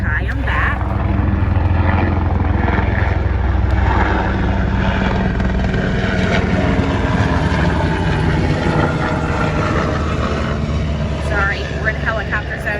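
A steady, loud rotor and engine drone fills the air throughout, with brief higher chirps near the end and some talking underneath.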